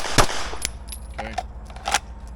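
Staccato P pistol fired at a shooting range, about five sharp gunshots in quick doubles and singles over two seconds, loud and close with brief echo between shots.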